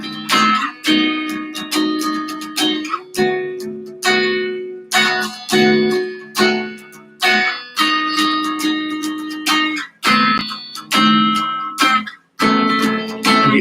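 Guitar strumming chords on the bottom four strings, a series of distinct chord strikes, each ringing and decaying before the next, at close range with no talking.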